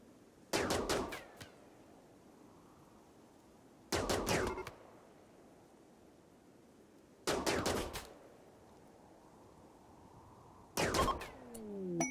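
Charge rifle gunfire in the video game Rimworld: four short rapid bursts of automatic shots spaced a few seconds apart, crisp and moderately loud over a quiet background, with no talk.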